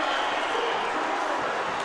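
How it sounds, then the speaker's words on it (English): A high school boys' basketball crowd in a gym roaring after a dunk, a sustained broad wave of cheering with a voice talking over it. "What a way to fire up your crowd."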